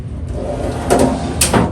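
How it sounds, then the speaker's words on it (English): A tight-fitting metal drawer on a finished welding cart slides with a low scraping rumble, then gives two brief knocks as it seats, close and fairly loud. "It is a very tight fit, this drawer,"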